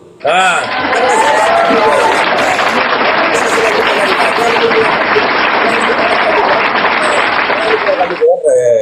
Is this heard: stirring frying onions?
no